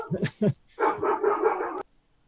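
A dog barks indoors, a few sharp barks followed by a longer run of rapid barking, moderately close, then silence.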